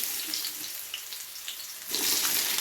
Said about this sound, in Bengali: এবারে আমি প্রথমে আলুগুলোকে ভেজে নেব।